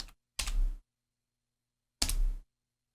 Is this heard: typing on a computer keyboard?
yes